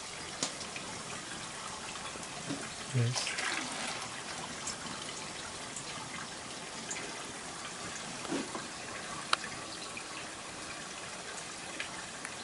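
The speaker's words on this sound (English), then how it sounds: "I think now he will pour the" Liquid mixture poured at a traditional sheep farm in Romania, a low, steady trickling and splashing wash with a brief thump partway through, heard outdoors at moderate distance with a single short spoken word.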